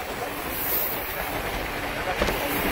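A train runs along a branch line towards Howrah junction, heard from on board as a steady broadband rumble and hiss with faint background voices.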